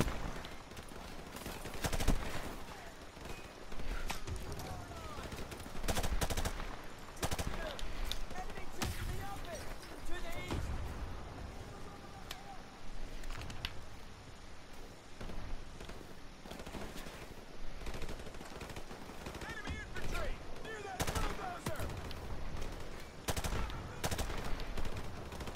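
Call of Duty Modern Warfare Remastered gunfire crackles throughout in dense bursts of automatic shots, some loud and close and others farther off, mixed with a player talking over the action.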